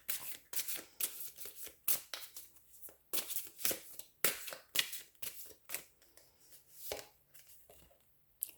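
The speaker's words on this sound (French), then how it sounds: "Je vais aller voir avec ce jeu et je vais sortir seulement quelques cartes." Tarot cards being shuffled and drawn by hand, a close series of crisp riffling bursts and slaps in an irregular rhythm, with no talking.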